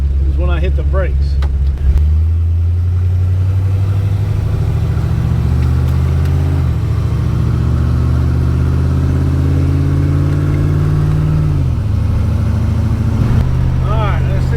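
A 1957 Ford Fairlane 500 cruises at highway speed on a dark night test drive, its steady low engine drone and road rumble continuous and close throughout, with brief shifts in pitch and someone talking over it.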